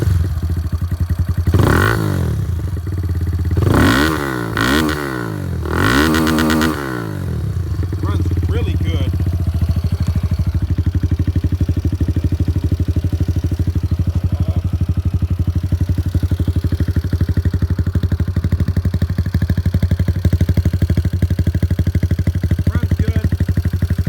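A Kawasaki Z125 Pro motorcycle engine with a big bore kit revs sharply several times in quick bursts, then settles into a steady, loud idle rumble that continues close by.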